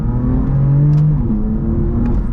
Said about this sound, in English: Oh, that downshift is so quick. So full throttle.